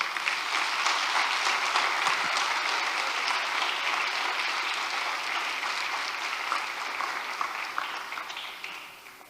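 A church congregation breaks into sustained applause for a choir member, the dense clapping holding steady for several seconds and then tapering slightly toward the end.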